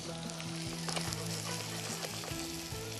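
Garlic and onions fry in butter to a golden brown, giving a steady, dense sizzle that stays close and fairly loud throughout, with a few brief stirring clicks and no voices.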